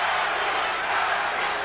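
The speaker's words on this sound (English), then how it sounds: "Larry, Larry, the crowd very much in support of the challenger" Dense, loud boxing arena crowd roaring and chanting a fighter's name, a continuous close wash of many voices with no single speaker standing out.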